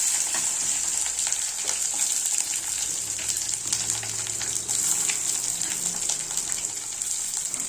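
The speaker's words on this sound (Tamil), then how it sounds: "எண்ணெய், கடுகு, கருவேப்பிலை தலைங்க, மல்லித்தலை, ஒரு பச்சை மிளகா, சின்ன வெங்காயம் வணக்கிறேங்க" Mustard seeds, curry leaves, green chilli and shallots fry in hot oil in a kadai for sambar, a steady close hissing sizzle with faint crackles running evenly throughout.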